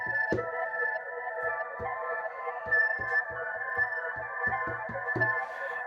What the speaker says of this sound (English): deep delay grain effect, which is so nice